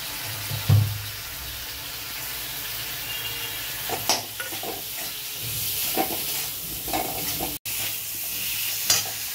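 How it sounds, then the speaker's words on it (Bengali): Spoon stirring tomato and drained Gobindobhog rice into frying banana-flower mocha ghonto, a steady close sizzle with scraping strokes and soft clatters recurring every second or so, no voices. "টমেটোটা দিয়ে নাড়াচাড়া করে গোবিন্দভোগ চাল যেটা জল ঝরিয়ে রেখেছিলাম ওটা দিয়ে দিচ্ছি"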